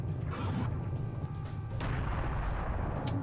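A cannon fires in Serious Sam: The First Encounter during co-op play, giving one heavy booming blast with rumbling low end that fills most of the moment, then a sharp crack near the end.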